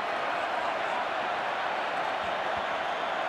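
Rugby crowd at Suncorp Stadium cheering and applauding after a play, a steady dense roar held evenly at moderate volume for a few seconds, broad and distant-sounding.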